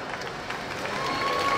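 Crowd applauding at a Three Kings parade proclamation, a steady broad wash of clapping that swells slightly toward the end, heard alone without voices.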